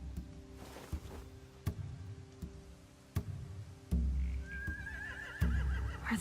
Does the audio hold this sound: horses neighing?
yes